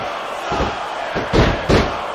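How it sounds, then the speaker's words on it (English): A wrestling arena crowd in SmackDown vs. Raw 2006 surges in repeated cheering swells, broken by heavy slams and thuds from the ring, loud and close. "I think these superstars are getting some feedback from the crowd, JR."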